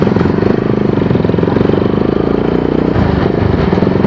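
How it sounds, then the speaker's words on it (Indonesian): A motorcycle exhaust with a leak, close and loud, running steadily with a rough, throbbing engine note and no talking over it. "Suara knalpotnya kenapa gini"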